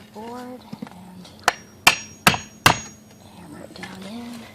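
Three sharp, loud hammer blows on a wooden board in quick succession, driving it into place under a shed, with a lighter knock before them and a brief voice at the start and end.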